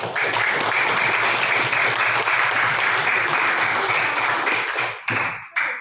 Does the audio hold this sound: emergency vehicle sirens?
no